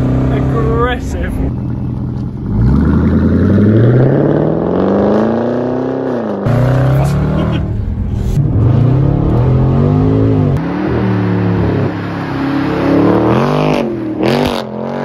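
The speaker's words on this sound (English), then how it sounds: "This video is going to focus on probably the loudest Jaguar in the world." A Jaguar XJR engine roars and revs hard, its pitch sweeping up and down through repeated throttle blips over a steady loud growl, very close and dominant throughout.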